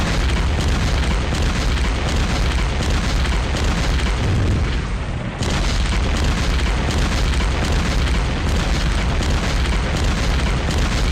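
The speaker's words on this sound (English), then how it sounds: "Let's take the artillery in the face, as there's probably gonna be a lot of it." Continuous heavy booming of artillery explosions in the wargame Steel Panthers: WaW, loud and rumbling for the whole stretch with a brief dip midway, no voices.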